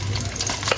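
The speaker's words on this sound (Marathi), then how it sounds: "आता याच्यात मी कांदा टाकतो" Onion and whole spices frying in a pan, a steady close sizzle with stirring scrapes throughout the short moment.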